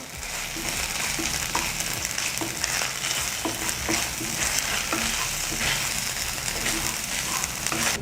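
Spices, chilli powder, salt and other ingredients frying and being stirred in a pan for khichdi, a steady close sizzle with repeated scraping stir strokes throughout, no talking.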